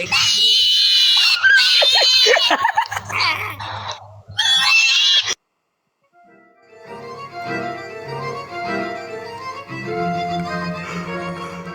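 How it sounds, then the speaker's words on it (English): A recording of a pig's screams plays: about five seconds of loud, shrill squealing, then an abrupt cutoff, a brief silence and a quieter, different sound. "I think that guest just played the screams of a pig."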